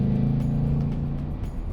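A 2018 Ford Mustang GT Performance Package 1 with its V8 engine drones steadily and loudly, a deep throbbing rumble from inside or near the car.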